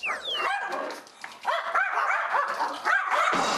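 Three dogs bark and yelp noisily in a greeting, close by, with a steady run of overlapping barks and whines through the whole stretch.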